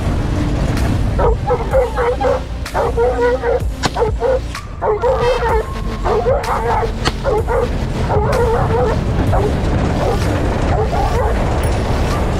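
Hunting dogs bay and bark repeatedly at a wild boar during a pig hunt in Cape York, a steady run of yelping barks over loud, continuous outdoor noise and rustling.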